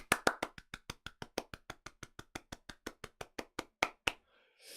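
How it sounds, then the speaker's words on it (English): A single pair of hands claps in a quick steady rhythm, about twenty sharp close claps over a few seconds, ending abruptly, offered as a round of applause at an online tech conference talk. "please do join me in giving Mandy our customary round the world round of applause"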